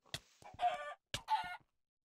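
Two short bursts of chicken clucking from a Minecraft chicken in the Stoneblock 2 modpack, each a quick rising squawk followed by a trailing cluck, close and clear against silence.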